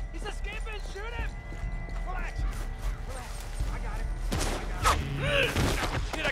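Gunshots in the western video game Red Dead Redemption 2, a few loud cracks near the end amid horse hooves, clattering and character dialogue.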